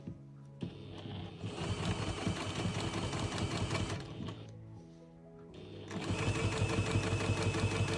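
A sewing machine stitches down a folded quilt binding along the edge, its steady mechanical whirr running in two close, continuous bursts with a brief pause between them.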